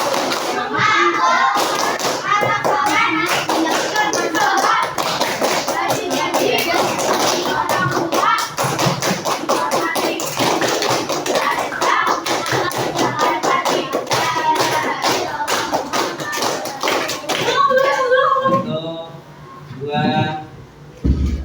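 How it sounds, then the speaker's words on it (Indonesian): Children in a classroom clapping and chanting together, with rhythmic tapping and thumping of hands under lively young voices, continuous group activity for most of the time before trailing off into scattered talk. "sekali tepuk tangan soleh"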